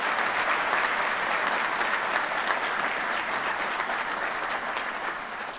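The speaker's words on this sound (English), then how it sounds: "Could we have a round of applause for our stage party," Steady, sustained applause fills the hall for the stage party at a college presidential inauguration, a dense unbroken round of clapping from a large seated audience that eases slightly at the close.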